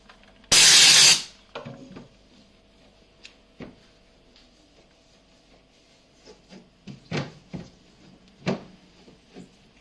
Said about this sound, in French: juste avec deux vaporisations de vapeur, là, tout ce qui était collé est bien parti